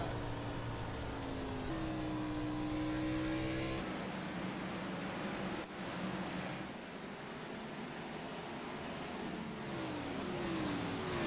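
Dirt race cars battle around the Bristol dirt track in a racing video game, engines droning steadily and loudly with rising and falling revs, a pitch sweep near the start and another near the end, no voices.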